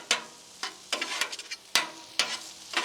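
Eggs and rice for pork fried rice stirred on a Blackstone griddle: sharp spatula scrapes and taps at irregular intervals over a faint sizzle, close and alone without speech.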